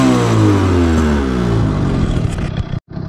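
A Derbi motorcycle fitted with a vintage Metrakit exhaust revs loud and close, its engine note climbing steadily before cutting off abruptly near the end.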